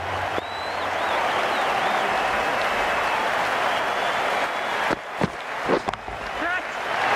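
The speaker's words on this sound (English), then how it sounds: "The crowd on their feet." A cricket crowd at a PSL match stands cheering and applauding in a sustained, loud roar of clapping and voices that drops away near the end.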